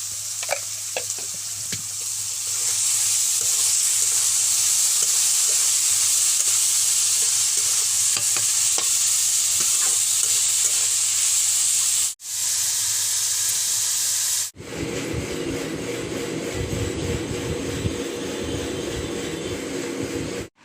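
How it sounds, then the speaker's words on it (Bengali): Sliced carrots frying in a pan while being stirred, a loud continuous sizzle with scraping strokes throughout, shifting to a denser, rougher frying sound in the final seconds. "এবার গাজরটা ভাজা হচ্ছে"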